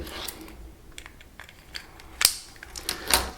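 A plastic Dodge key fob remote case, as used on Challenger, Charger and Jeep models, snaps shut in a few sharp, close clicks, with two louder snaps near the end amid faint handling rustle and no talking.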